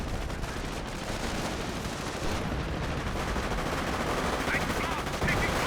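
Artillery and gunfire in a Company of Heroes 1 battle, a dense continuous barrage of blasts and rattling shots filling the mix at close range, loud and unbroken throughout.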